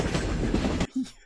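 Inside an American subway car in an advert, the train rattles and roars steadily for under a second before cutting off abruptly, leaving a brief quieter thud.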